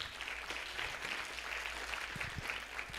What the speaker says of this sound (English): Please clap for Anisha, everybody.